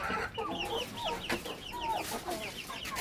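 Native chickens kept on a rooftop cluck repeatedly in short, chirpy calls, several birds close by with overlapping vocalizations and no talking.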